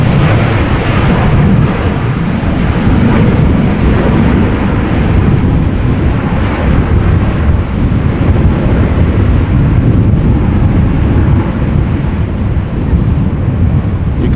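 Strong storm wind at Amsterdam Schiphol Airport roars in a constant, loud buffeting rush that batters the microphone for the whole stretch, with no pauses and no voices.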